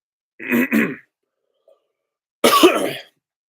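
Someone close by gives a couple of rough coughs, falls silent briefly, then clears their throat with a harsh, gravelly rasp.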